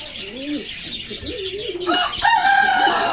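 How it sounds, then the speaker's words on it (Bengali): Desi frizzle chickens in a cage, soft rising clucks and murmuring calls close by, followed by a brighter burst of louder clucking near the end. "চলুন এবার ফ্রিজের মুরগিগুলো দেখাই, তারা আজকে প্রথম ডিম দিয়েছে"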